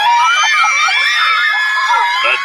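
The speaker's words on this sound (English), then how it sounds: "The deafening scream can mean only one thing." A live podcast audience in New York lets out a loud, sustained scream of excitement, a dense wall of shrieking voices that carries on without pause for a couple of seconds.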